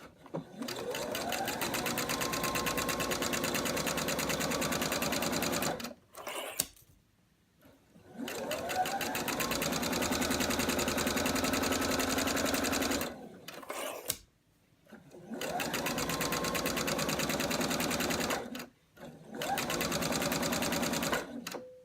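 A sewing machine runs in long steady bursts while stitching quilt squares for a herringbone quilt, with brief pauses between seams and no talking.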